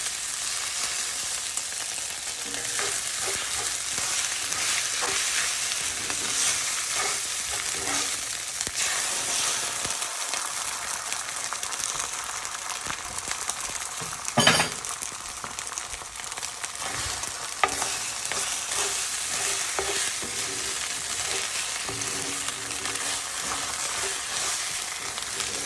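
Egg sizzles and fries steadily in a pan of fried rice on medium heat while it is stirred, a continuous close crackle with occasional sharper scrapes and clinks and no talking.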